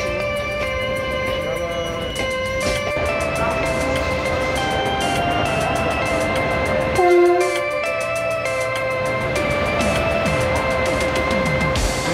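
A train at Nizamuddin railway station, with loud rumbling rail noise and sustained horn-like tones over a busy platform, continuous and close.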